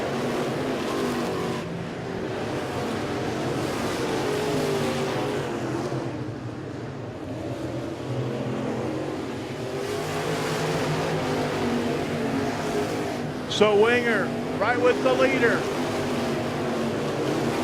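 Dirt Late Model race cars roar around a dirt track during a 70-plus-lap feature, engines droning steadily at a distance beneath continuous commentary, with a brief louder burst near the end.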